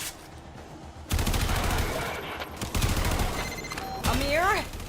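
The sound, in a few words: gunfire in the video game Warframe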